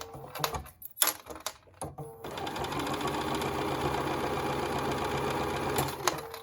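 A sewing machine stitches a wristlet or lanyard strap over a thick seam: a few short clattering bursts and pauses, then a fast, steady mechanical whirring run of stitches, close up with no talking.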